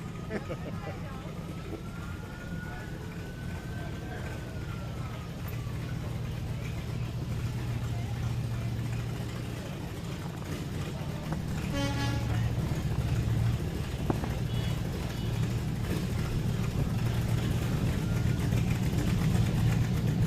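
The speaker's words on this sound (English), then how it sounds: "That's a great car right there." At a Veterans Day parade in Beaufort, a car engine idles with a steady low rumble amid street noise, with a brief high whine partway through.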